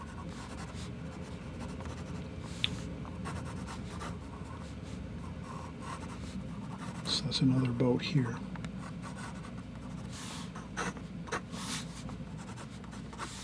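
A pencil scratches and rubs faintly across paper while sketching sea and boats for a watercolor, with someone talking over it.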